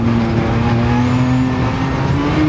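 Lamborghini Countach QVX engine in a racing video game, running flat out with aerodynamic downforce on a circuit before a downshift to third gear, a loud, steady, tonal engine drone holding high revs close up.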